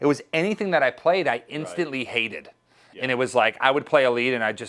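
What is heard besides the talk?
No everyday noises stand out.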